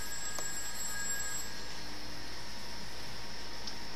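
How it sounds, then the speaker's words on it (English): A telephone rings in the horror game Those Who Remain, a thin ringing tone set over a constant hiss of ambient noise. "Okay, mysterious ringing phone."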